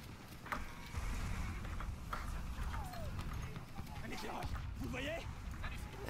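Horse hooves clip-clopping at a run in the Battlefield 1 Nivelle Nights map during a night match, steady and fairly close, mixed with game ambience and a player talking over it.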